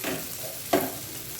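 Hot oil frying in a kadai, with a soft continuous sizzle and one brief louder scrape or splash midway.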